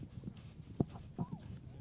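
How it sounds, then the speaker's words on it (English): Horse hooves clop softly on the ground during a horseball match, a few scattered, fairly faint hoofbeats under a commentator's voice. "Meanwhile, Juan Gris Zabaleta will be changing horses for the remaining minutes of this game,"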